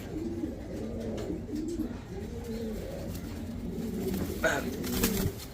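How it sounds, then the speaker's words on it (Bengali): A pair of English Nun pigeons coo in soft, repeated, rolling calls close by, over low background noise. "একজোড়া ইংলিশ নান কবুতর"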